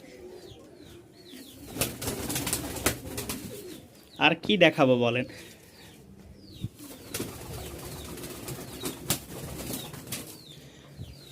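Giribaz pigeons at a pigeon fair in Rajshahi, Bangladesh, coo repeatedly, with a burst of wing flapping in the middle, while someone speaks briefly nearby.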